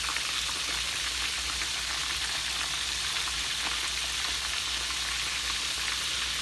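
Conch pieces fry in a pan of hot oil, giving a steady, dense sizzle with a fine crackle that stays even and close throughout, with no voices over it.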